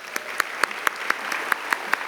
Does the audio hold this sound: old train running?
no